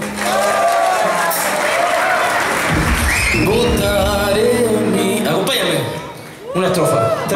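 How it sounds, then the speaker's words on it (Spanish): Concert crowd applauding and cheering again, clapping and shouts mingled with loud voices and a speaker on a microphone, with a short dip in the middle before the noise picks back up. "Otro aplauso, por favor."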